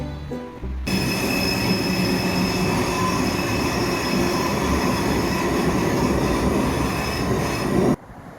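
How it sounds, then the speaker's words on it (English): A Transport for Wales train runs along the North Wales coast, a loud, continuous rolling rumble with rail noise and a high squeal that starts abruptly and cuts off near the end. "The train in Wales is always quite nice."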